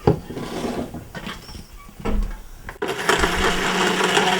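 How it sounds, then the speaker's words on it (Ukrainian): A kitchen blender whirs through sesame, ground poppy seed, dates and water, starting after a few handling knocks and running loud and steady to the end. "В блендері все перемішаємо."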